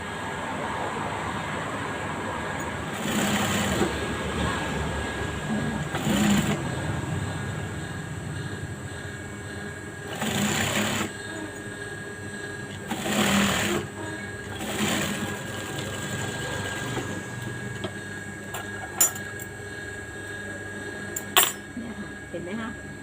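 A sewing machine stitching a seam on Levi's jeans being taken in: several bursts of fast mechanical whirring a second or two long, separated by pauses, with someone talking throughout and a steady background hum.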